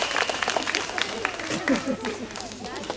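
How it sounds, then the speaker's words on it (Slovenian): An audience claps during a stage performance of a tale about a Chinese emperor. The mixed applause and crowd murmur sit under a speaking voice, close and steady throughout. "En močen aplavz za našega."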